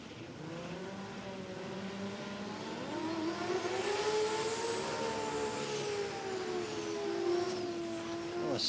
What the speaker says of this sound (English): Oh, a smoky burnout from Poe.